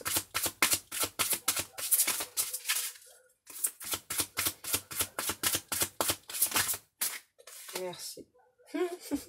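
Tarot cards are shuffled in rapid bursts of crisp riffling flutters, close and fairly loud, repeating in quick pulses with a short pause and then a card drawn at the end.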